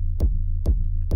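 Raw techno kick drum with no distortion or saturation, programmed in Ableton 12: three deep, booming thumps about half a second apart, each with a short bright click on top of a sustained low rumbling tail.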